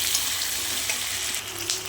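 Potatoes sizzle steadily in a hot pan, a continuous close crackling hiss with no voices.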